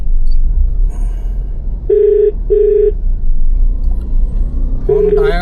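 A phone ringing unanswered inside a moving car, repeated electronic ring tones in short bursts over a steady low road rumble, with someone speaking.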